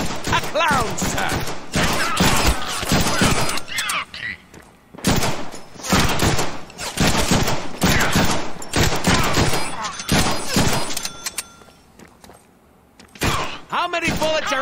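Gunfire in the Deadpool video game, dense bursts of rapid shots and impacts filling most of the clip with short lulls, loud and close, mixed with game voices and a speaking player.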